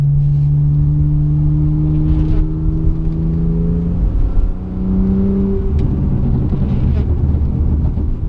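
BMW E30/E36/E92 exhaust heard from inside the car's back seat: a loud, droning engine note with rising and falling revs over several seconds, close and continuous, with faint voices.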